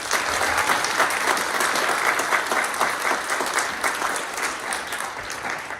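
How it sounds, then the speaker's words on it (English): An audience at a high school spring band concert claps warmly for student conductors, a full burst of applause that stays strong and then slowly thins toward the end. "Can we give them a round of applause?"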